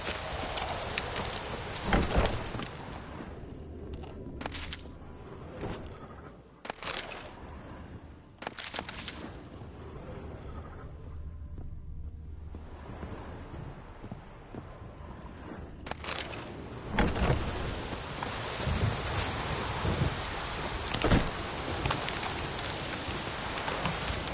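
Rain falling in The Witcher 3: Wild Hunt, a steady broad hiss of rainfall on surfaces with a few sharp louder bursts and a low rumble hinting at distant thunder, swelling again near the end.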